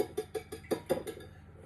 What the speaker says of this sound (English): I'm just going to give the eggs a whisk